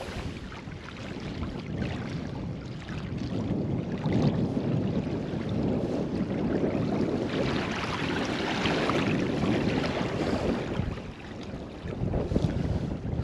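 Water flows and rushes steadily outdoors, with gusts of wind buffeting the microphone through the whole stretch.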